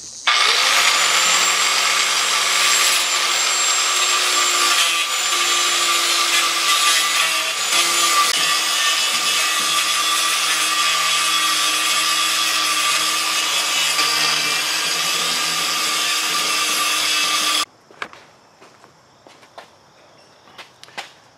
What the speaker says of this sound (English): Okay, now we've welded it, now we're going to grind it.